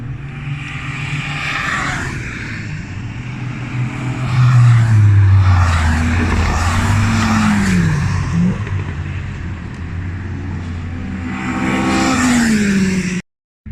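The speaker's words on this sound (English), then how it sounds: "there's a lot of fast cars going around" Fast cars, among them a Porsche GT3, rush past on a circuit at a track day, engines droning and swelling loudly as each one passes close by in waves.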